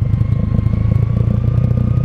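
A crosser dirt bike's engine runs close by with a throaty, pulsing low rumble and an even rhythm that holds steady, loud and without voices.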